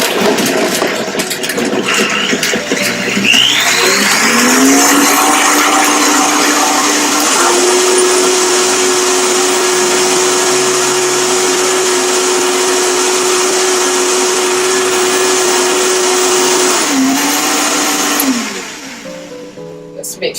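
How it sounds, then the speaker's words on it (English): A Vitamix blender whirs loudly as it blends a moringa smoothie with cardamom, ramping up to a steady high whine, holding there, then winding down near the end. "I'm just going to turn it on with the Vitamix until it's blended."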